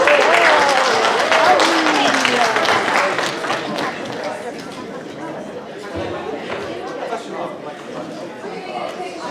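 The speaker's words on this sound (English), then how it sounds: "let's give our seniors a round of applause" A high school debate event crowd applauds its graduating seniors, loud dense clapping at first that gradually thins and softens while voices chatter over it.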